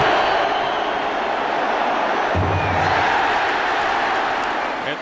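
A large NFL stadium crowd at a Colts–Redskins game roars in a dense, continuous wash of noise after a missed field goal off the post, with a low thud partway through and no clear speech.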